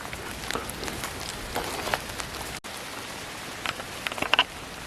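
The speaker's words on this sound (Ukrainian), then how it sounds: "Але зараз спустився сильніший дощик." Heavier rain falls in a birch forest, a steady dense patter of drops on leaves and ground with a few closer louder splats, continuous and near.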